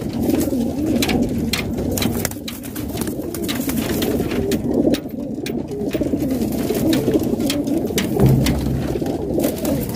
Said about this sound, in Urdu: چوٹی دار کبوتر بھی بڑا حسین ہے